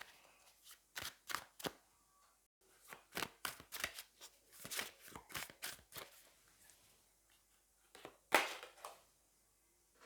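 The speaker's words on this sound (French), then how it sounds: "je vais aller prendre peut-être une ou deux cartes de tarot supplémentaires" Tarot cards are drawn and handled from a deck: soft, close riffling and flicking of card stock comes in quick clusters with brief pauses, and a sharper slap near the end, with no voices.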